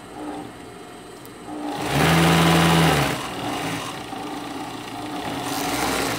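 A sewing machine stitches the two side seams of a Santa hat, one brief motor whir of about a second rising over a steady background noise, with faint handling sounds before and after.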